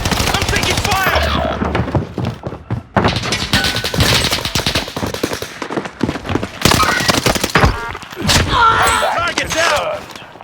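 Rapid automatic gunfire and bursts of shots in Call of Duty Warzone on Rebirth Island, loud and close in repeated volleys with short gaps, layered with game effects and in-game voice callouts.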